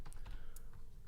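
Keys clacking on a computer keyboard while entering a size value in Scratch, a run of light, quick taps close to the mic over a steady low background hum.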